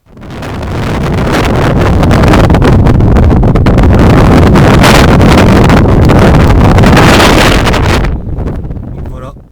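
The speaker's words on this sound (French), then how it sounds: "le vent est assez fort et froid également" Loud, roaring strong cold wind buffets the microphone for several seconds, a dense continuous blast that cuts off abruptly near the end.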